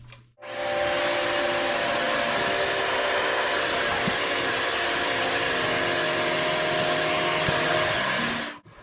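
An electric mixer whirs steadily and loudly for several seconds while beating sugar and eggs for a vanilla chai crème brûlée, starting and stopping abruptly.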